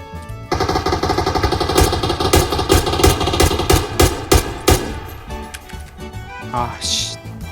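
Loud automatic gunfire in a video game rattles in rapid close bursts with short pauses, trailing off near the end, while players' voices chatter over it.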